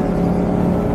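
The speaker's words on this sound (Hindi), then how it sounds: "this is a Ducati पेनेगले V4" A Ducati Panigale V4 superbike rushes by on an expressway, a dense loud engine roar and wind rumble filling a short moment without voices.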